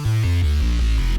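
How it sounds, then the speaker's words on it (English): A spicy dubstep synth layered with a deep synth bass for a pop track, loud sustained chords with shifting low notes and a brief cut at the end. "Layer that with the synth bass."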